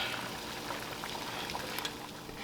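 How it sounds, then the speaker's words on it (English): A pot of water boils with gnocchi dropped in, giving a faint, close, continuous bubbling hiss with small irregular pops and no talk. "drop the gnocchi in small batches into boiling water until it rises to the top"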